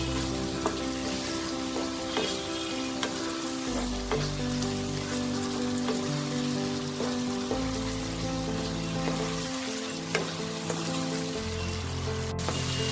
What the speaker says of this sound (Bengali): চিংড়ি মাছের গ্রেভিটা আমার তৈরি হয়ে গেছে। এবার আমি কাঁচা লঙ্কা কটা দিয়ে দেবো।